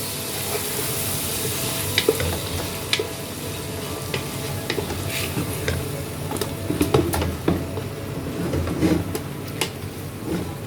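Canned sliced mushrooms fry together with chicken in a pan for chicken Alfredo pasta, giving a steady soft sizzle with scattered clinks and scrapes from stirring.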